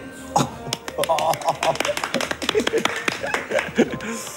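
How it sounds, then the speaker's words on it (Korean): A few people clap briefly in a sharp, uneven patter of hand claps mixed with soft chuckles, close by and interleaved with talking voices in a Korean drama scene. "오, 박수."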